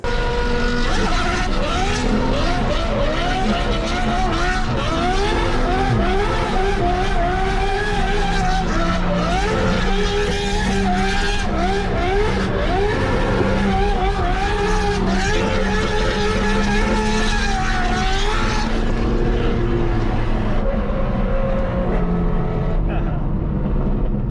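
A Judd V10-powered Toyota Supra race car engine screams at high revs while tires squeal and skid through a long drift, loud and continuous throughout.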